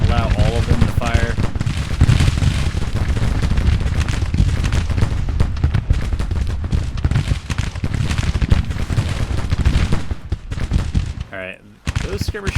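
Massed Civil War musket volleys crackle continuously in the strategy game Grand Tactician: The Civil War, dense overlapping gunfire close and loud, ending in a brief lull before firing resumes.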